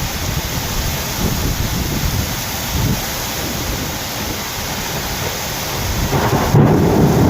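Heavy rain pours steadily with deep, rolling thunder rumbling through it, loud and close throughout, outdoors in the hills at Vagamon in Kerala, with no talking.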